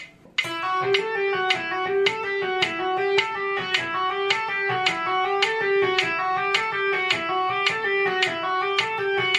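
A fast electric guitar tapping lick plays alone, with bright, evenly spaced notes repeating in a steady, rolling pattern.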